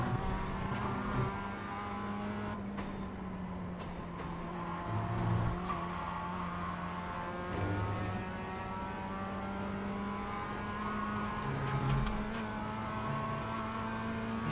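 Race cars in a racing video game, with a Toyota among them: a steady engine drone with sustained tonal whine, brief bursts of tire noise and occasional rises in revs, no talking.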